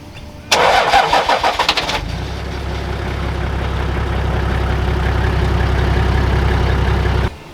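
Toyota 105 series four-wheel drive with a custom 3-inch straight-through exhaust and two inline mufflers cranks over briefly, fires, then settles into a loud, deep, steady idle rumble close by, with no talk.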